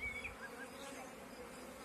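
Honey bees buzz at the hive in a dense, steady drone from many insects, continuous and fairly close, with no talk over it.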